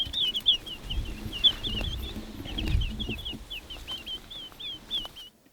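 Quail chicks in West Texas give repeated high, thin chirps in quick irregular bursts, calling to regroup with the hen, faint and close over a low rumble of wind and outdoor background.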